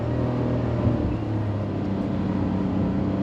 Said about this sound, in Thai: แล้วก็จุ่มคันเร่งเพิ่ม